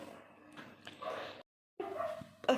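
Dogs barking at night around 1–2 a.m., a scattered run of yips and barks at moderate distance with a short silent break midway and a louder burst at the end.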